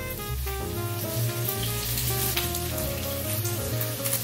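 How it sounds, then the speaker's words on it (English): Bacon sizzles in a frying pan with a close, continuous crackling hiss, with music playing over it throughout. "You turn the bacon."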